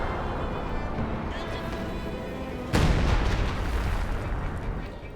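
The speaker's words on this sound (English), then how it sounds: "And lots more artillery fire going in here from Banillo" Artillery barrages rumble and boom through a Company of Heroes 2 2v2 battle, a dense wash of distant blasts with a sudden louder impact midway, under continuous game noise and a commentator's voice.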